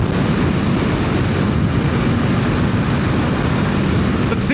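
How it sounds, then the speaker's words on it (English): Wind buffeting a rider on a light starter motorcycle, a steady loud roaring rush of air noise filling the whole stretch without a break. "it's just so light, the wind's hitting me and it'll move the bike"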